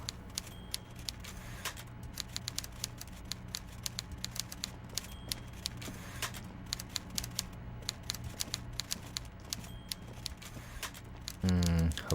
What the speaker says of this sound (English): Oh, a typewriter.